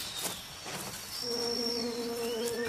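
A bee buzzes in the Amazon forest, a steady hum that rises in pitch partway through, heard near and under a backdrop of insect chirps and forest ambience.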